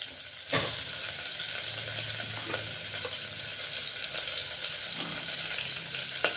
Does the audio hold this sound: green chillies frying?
yes